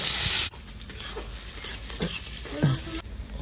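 Chopped onion hits hot oil with dried chillies and whole cumin, a sharp burst of sizzling followed by steady frying crackle and stirring scrapes, close up and without talk.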